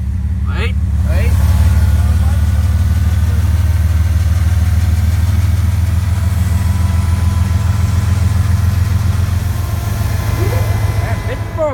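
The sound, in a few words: locomotive 5405 engine idling while shunting cars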